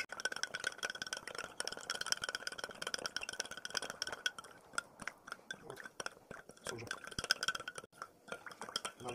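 Salt stirred into water in a glass, a thin spoon clinking and scraping against the glass in quick irregular taps, close and quiet, with a voice speaking over it.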